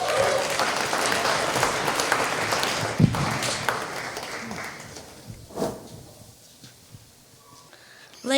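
A theatre audience applauds after a comedian's stage set, loud and dense at first, then thinning out into scattered claps with a few knocks and bumps near the end.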